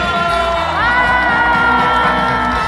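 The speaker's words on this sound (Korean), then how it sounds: "인천에 계신 여기 모든 분들 함성 소리 질러" Concert crowd in Incheon cheering and shouting for a singer, loud sustained roar of many voices with whoops rising over a steady hum.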